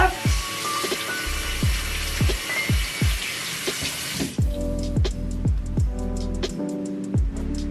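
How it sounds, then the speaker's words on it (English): Hands are washed under a running tap at a bathroom sink. A steady rush of water comes first, then drips and splashes, close and fairly loud, with no talking. "So I just gotta wash my hands because I've used so much product"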